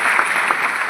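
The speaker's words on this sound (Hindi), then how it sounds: "ताली बजाओ ढंग से।" Audience clapping at a success-story event in Bhagalpur, Bihar: steady, dense applause from a crowd filling the whole second, fairly loud and even.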